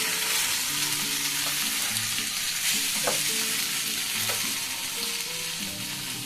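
Small freshwater fish frying in a pan for a spicy curry, a steady close sizzle with bursts of oil crackle and the occasional scrape of a spatula throughout.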